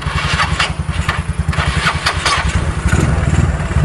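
An old, worn motorcycle with a failing carburetor starting up and chugging into a rough, rapid idle, close and loud with no talk over it.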